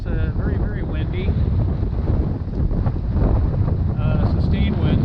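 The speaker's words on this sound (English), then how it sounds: "I can't hear it because it's very, very windy." Strong near-gale wind roars steadily across the microphone on a sailboat heading from Frankfort to Northport, with sustained winds close to 30 knots; a voice talks faintly under the constant buffeting.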